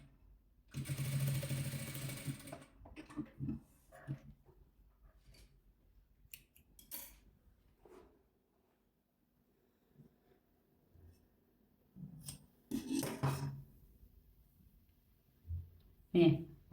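Sewing machine stitching white patchwork fabric pieces, short bursts of rapid whirring separated by pauses and quiet handling, close and fairly soft, with someone talking between runs.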